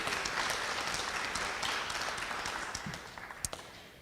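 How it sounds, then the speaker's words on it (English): Steady audience applause at a North Carolina arts and humanities event, a dense wash of many hands clapping that fades slightly toward the end, with a few sharp individual claps standing out near the close. "I hope those assembled here will join me in giving you one of many rounds of applause tonight."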